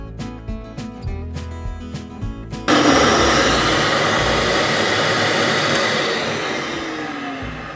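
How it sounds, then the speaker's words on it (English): A turned pen on a lathe mandrel gets its final buff sanding and polishing: background music cuts to a loud, steady whirring hiss close by that slowly fades. "And now for the final buff sand and then the polishing."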